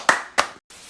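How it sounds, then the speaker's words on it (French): Two sharp hand claps sound close by, evenly spaced, followed by a brief silence and then a low steady hiss. "Applaudissez tout le monde, ouais."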